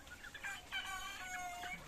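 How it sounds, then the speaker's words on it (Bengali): Sonali chickens on a farm cluck softly in short, scattered bursts, faint and somewhat distant, with no voices present. "এই সোনালী মুরগি আপনারা চাষ করুন"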